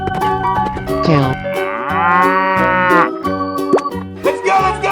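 A cartoon cow in a 3D animal slide game gives a long, loud, wavering moo close up, set against bright, bouncy game music with plopping effects.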